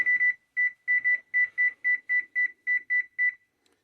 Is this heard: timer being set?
yes